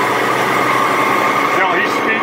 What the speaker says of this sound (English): The engine's taking off on its own.